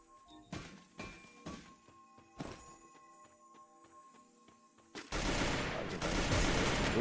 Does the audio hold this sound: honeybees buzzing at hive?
no